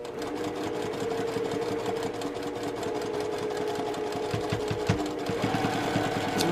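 A sewing machine runs a steady, fast stitching rattle while sewing a quarter-inch seam on a quilt block. It sounds close and continuous, with a few brief changes of speed near the end.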